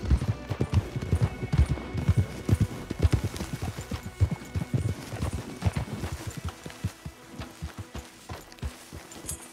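Horse hooves clip-clop in a quick, uneven rhythm in Red Dead Redemption 2, loud and close at first, then settling into a lighter, steadier gait.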